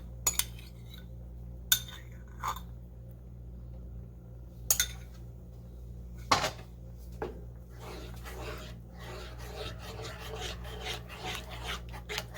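Metal utensil scraping and clinking against a pan of simmering beef stroganoff on low heat, a few sharp isolated clinks early, then busier rasping stirring toward the end.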